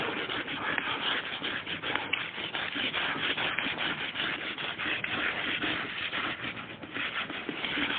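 Steady rubbing of a duster across a lecture board to erase writing, a close, continuous scratchy friction sound with fast back-and-forth strokes lasting several seconds.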